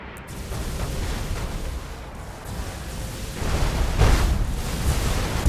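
Dense, rumbling bursts of heavy cannon fire from spaceships in the video game Battlefleet Gothic Armada 2 roar continuously, growing louder toward the end, with booming blasts layered in a thick barrage.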